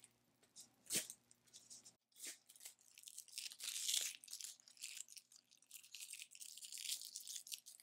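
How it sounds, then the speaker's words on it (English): Tape is peeled slowly off a sublimation-printed placemat, a faint, close crackling tear that comes in short rasping bursts with brief pauses between. "let me take the tape off"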